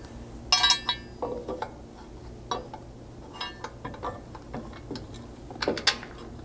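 A bolt is fed back through the front hole of a Lexus LX 570 slider leg, giving scattered metallic clinks and light taps, close and intermittent with no talking.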